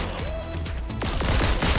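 Pistol gunfire in a video game, a quick burst of sharp shots close and loud over game background sound.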